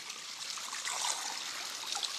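Water flows steadily through a paddy field, a continuous close trickling and babbling with a bright, hissy character and no speech over it.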